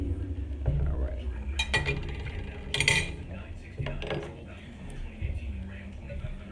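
A spoon stirring seafood boil sauce in a bowl, with scattered clinks and scraping knocks against the sides, close up, mixed with a faint voice.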